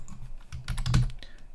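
Quick, close clatter of keys as a command is typed on a computer keyboard, a short burst of soft taps.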